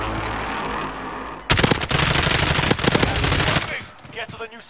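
Rapid automatic gunfire in the video game Call of Duty Warzone rattles out in loud, dense bursts after a quieter opening, then cuts off and leaves scattered fainter shots.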